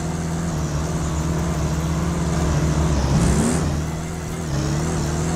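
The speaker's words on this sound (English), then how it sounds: "Sounds like an RC car." A truck engine in the off-road driving game SnowRunner drones loudly and steadily with a thin, whirring tone, swelling briefly in a rev before settling back to a constant hum.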